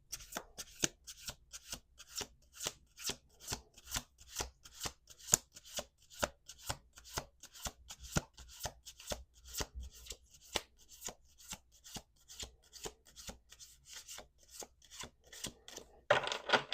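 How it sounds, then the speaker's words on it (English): A deck of tarot cards is shuffled by hand in a steady, quick rhythm of soft slaps and riffles, dozens of even strokes, close and quiet with no talking. "Last shuffle."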